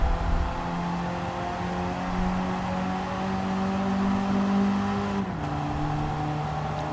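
A Volvo's engine in Gran Turismo 7 drones steadily with clear harmonic tones as it accelerates on the Nürburgring, then the pitch drops sharply at a gear change near the end.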